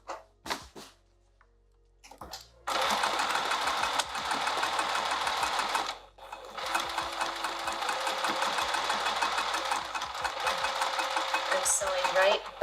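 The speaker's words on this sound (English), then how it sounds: "sewing right by my pins, not over them" A sewing machine runs in long steady bursts while stitching a striped canvas tote, its mechanical whir loud and close, stopping briefly midway before resuming, with a few handling thumps and quiet talk in the opening seconds.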